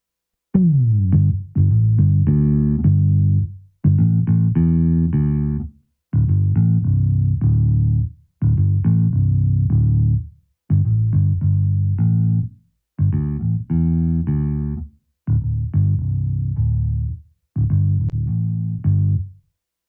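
Bass guitar played through a direct amp simulator with no cabinet, a repeated loud, distorted phrase of sustained notes in roughly two-second bursts with short gaps, and no other sound.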